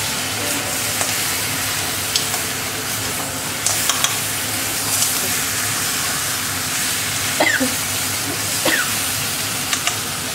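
Crab curry masala sautéing in a pan: a loud, continuous, close sizzle and hiss with scattered small pops and occasional stirring scrapes throughout.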